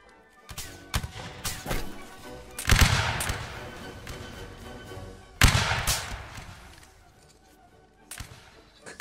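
Cannon and gunfire in a Holdfast siege battle, heavy booming blasts at intervals with crackling shots and rumbling aftermath, loud and close, with players' voices faintly mixed in.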